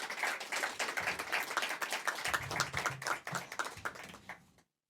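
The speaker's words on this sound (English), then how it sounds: "let's go ahead and give him another round of applause" Audience applause at a city awards and honors night: dense, steady clapping from many hands for about four seconds, fairly close, then cutting off abruptly.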